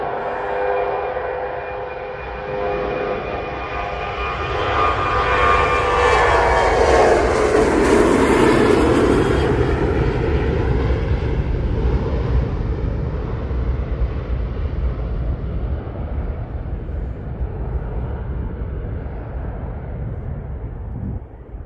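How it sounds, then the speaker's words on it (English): A Jet2 Boeing 737 departing Manchester Airport for Lanzarote, its jet engines building from a distant whine to a loud roaring peak as it passes, then fading to a long lingering rumble. "So this is a Jet 2 737,"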